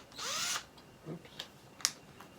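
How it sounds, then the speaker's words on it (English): A short whining burst of an electric drill spinning up close while drilling screw holes in a cigar box guitar, followed by a few small clicks and knocks. "Let me get a drill."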